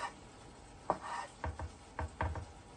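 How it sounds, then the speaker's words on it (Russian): A knife slicing green olives into rings on a cutting board, with about six soft, irregular cuts close by in an otherwise quiet room. "нарезать кольцами оливки зеленые"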